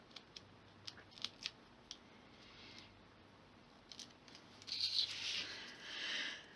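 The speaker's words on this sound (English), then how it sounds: "and then peel the backing off." Backing paper peeled off 3D foam pads while making a Christmas card: a few soft clicks and taps, then a louder crinkly peeling rustle near the end, close and quiet, no talking.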